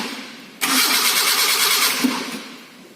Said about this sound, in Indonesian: Kemudian kita bisa menghidupkan kendaraannya.